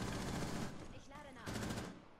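Rapid gunfire in the video game Rainbow Six Siege, heard as a dense, loud burst of shots that fades briefly and then returns, with a voice faintly underneath.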